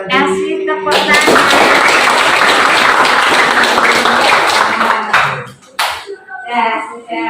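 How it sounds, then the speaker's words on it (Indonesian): Classroom applause from students during a teaching practice lesson, a dense sustained burst of clapping lasting about four seconds, loud and close, tapering off with scattered claps as voices return. "Kasih tepuk tangan."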